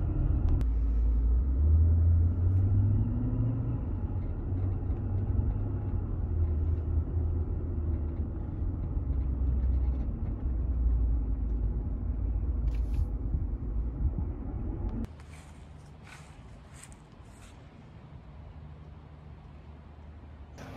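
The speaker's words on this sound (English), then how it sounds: "Let's see if I can keep driving." Steady low engine rumble heard from inside a moving car on a drive around St. George, Utah, continuous and droning, easing to a quieter hum near the end with a few faint higher chirps.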